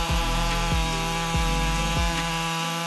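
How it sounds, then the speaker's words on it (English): A Husqvarna 562-218 chainsaw with a 59.8cc engine cuts through wood, its loud steady engine roar rising and falling in several rhythmic pulses as the chain bites, then cutting off near the end. "the Husqvarna 562-218 chainsaw is considered a powerful machine"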